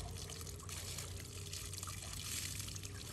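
Cold water trickling steadily outdoors, a faint continuous splashing and dribbling with no voices over it.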